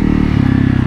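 A modified Honda CRF 300L motorcycle engine revs hard toward 9,500 rpm, a loud, steady, throbbing drone with a fast regular pulse.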